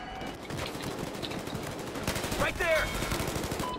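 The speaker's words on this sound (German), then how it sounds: "Wir werden beschossen." Sustained gunfire in the Battlefield Hardline video game: dense rapid automatic bursts crackle throughout, loud and close, with sharper shots and ricochet-like whines near the end.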